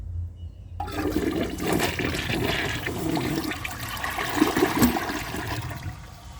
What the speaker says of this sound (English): I'm going to try holding the handle, releasing all of the water from the tank instead of just half